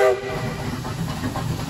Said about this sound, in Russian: Подается паровоз под поезд,